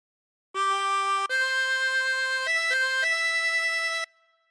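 A chromatic harmonica plays a short phrase of Amazing Grace, a few clear, reedy sustained notes in sequence, solo and close, ending with a brief fading tail.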